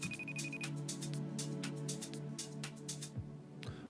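A phone rings with an incoming call, its tone repeating steadily for a few seconds over a busy background of music and other sound during a live remote show, then cutting off near the end.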